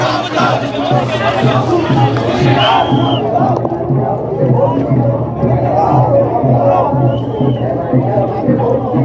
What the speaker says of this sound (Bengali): আমরা আপনাদেরকে দেখাচ্ছি এই মুহূর্তে যে বিভিন্ন স্লোগান দিচ্ছেন তারা